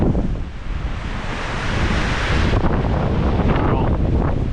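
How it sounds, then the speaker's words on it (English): Strong wind roars and buffets the microphone beside windswept water in the Sierra near Tahoe, a loud continuous rush that surges stronger midway. "really windy today."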